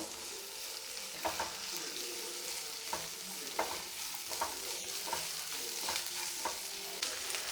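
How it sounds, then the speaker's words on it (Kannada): Food frying in a pan for a pataa pat roll, a continuous sizzle broken by repeated spatula scrapes and stirring clicks, close up with no talking. "ಇದು ಚೆನ್ನಾಗಿ ಫ್ರೈ ಆಗಬೇಕು"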